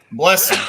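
A single sudden sneeze bursts out close by with a sharp onset and a breathy, noisy release lasting under a second, just before a listener responds.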